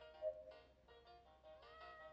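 A cat meows a few times in a video game, soft, short tonal calls set over quiet background game music.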